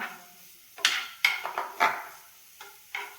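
Spoon stirring sliced onions frying in a pan, making a handful of sharp scraping clinks in an uneven rhythm over a quiet background.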